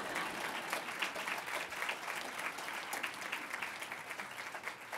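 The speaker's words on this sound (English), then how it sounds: "You can clap for me." An indoor audience at a school's accepted students day claps steadily for about five seconds, a dense, even ovation heard from within the room.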